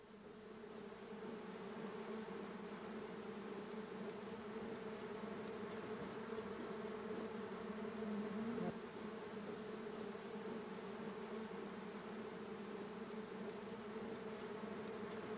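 Foraging honey bees hum steadily at a hive in summer heat, a continuous close drone that holds even and unbroken for the full length, with no voices.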